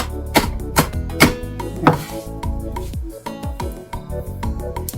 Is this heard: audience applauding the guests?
no